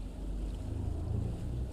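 A boat engine starts and runs in a fishing and aquaculture farming game, a steady low rumble with a faint hiss of wind and water over it, continuous and fairly quiet, with no voices.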